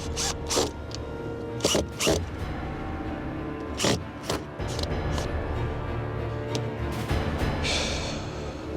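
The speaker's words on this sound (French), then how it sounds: "Je ferme. 4 vis. Je les visse." Four screws are driven in one after another with a hand screwdriver, giving close, irregular ratcheting clicks and scraping turns that come in bursts with short pauses.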